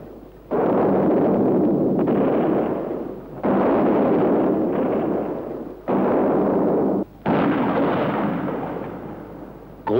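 Heavy artillery fire from a large 28 cm railway gun on the Meppen firing range: four loud, booming blasts in succession, each followed by a long rumbling roll that slowly fades before the next shot.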